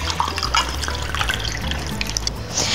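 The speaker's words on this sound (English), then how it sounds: "Then we need 1 cup of white wine." White wine poured into a roasting pan for a turkey roast, a steady close splashing trickle of liquid running for a few seconds with no voices.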